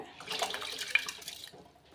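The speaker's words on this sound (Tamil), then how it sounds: "இல்லை 2 கப் தண்ணி ஆட் பண்ணிக்கலாம்" Water pours steadily from a tap or jug into a cooking pan, about two cups added for boiling soaked rice, a moderate splashing stream that fades toward the end, with no talk.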